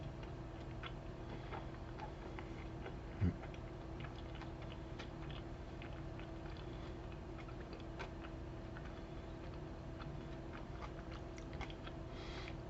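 Close, quiet chewing of a crunchy pizza topped with Reaper peppers, a steady run of small crunches and mouth clicks with one louder bite, no talking.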